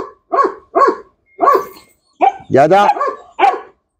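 A dog in bite training gives a series of loud, close barks in an uneven rhythm, with a brief spoken word mixed in among them.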